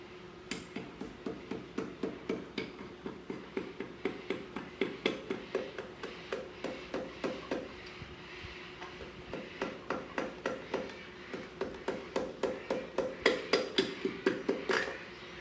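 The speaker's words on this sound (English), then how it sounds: "maybe a few taps with the back of the rubber mallet" Rubber mallet tapping out a piston from a blown-up Ford 351 Cleveland V8 engine with hypereutectic pistons, a long run of steady, evenly spaced knocks close by, repeated dozens of times with no talk.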